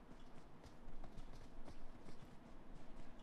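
Footsteps in the mobile video game PUBG Mobile sound as faint, quick, repeated thuds, close together and evenly paced, over a steady hiss of in-game ambience with no talking.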